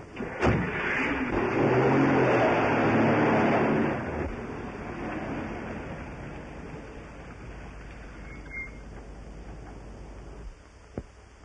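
A car engine roars loudly for a few seconds, accelerating, then fades into a softer steady rumble with rain-like hiss in the background.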